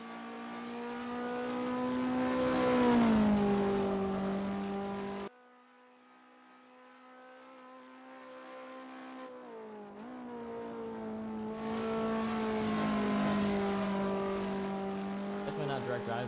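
Race car engine from a sim racing game lap replay at Roebling, a loud steady tone climbing as it revs, dropping sharply mid-lap, then building again through gear changes; no talk over it.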